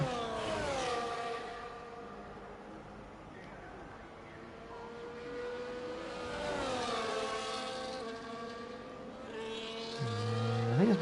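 Race cars in a racing video game come back around from the formation lap, their engines droning and shifting pitch as they rise and fall, with someone talking over them.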